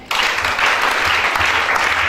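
Church congregation applauding, dense sustained clapping from a crowd, loud and close, continuing steadily without pause.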